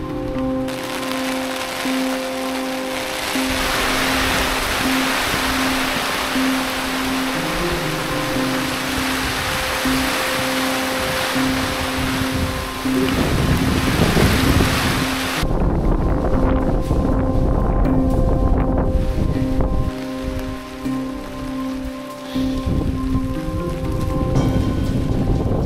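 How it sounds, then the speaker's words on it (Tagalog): Heavy rain and strong wind battering a tuktuk at night make a loud, continuous roar of rain and gusts that grows rougher partway through, with no voices. "Grabe yung ulan, biglang buhos."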